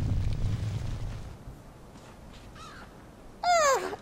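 A crow caws once loudly and close near the end, after a softer distant bird call, set against a low rumbling background with no talk.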